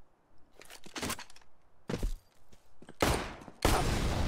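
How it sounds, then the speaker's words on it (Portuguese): Pistol gunshots in the video game Counter-Strike, a series of sharp cracking shots arriving in separate bursts with short gaps, the last few louder and fuller, with no talk over them. "Dei dois tiros de pistola nele só."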